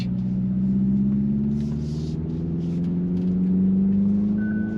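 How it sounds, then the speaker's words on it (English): Hyundai Ioniq 5N rolling out of the pit onto a race track, a smooth electric whine climbing gradually in pitch over low road rumble, fairly close and steady, no voices. "now we're rolling out of the pit here to get on the track"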